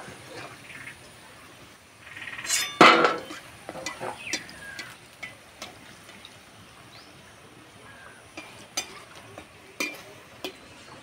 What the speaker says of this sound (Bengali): প্রথমে যেগুলো দিয়েছিলাম সেগুলো ভাজা হয়ে গেছে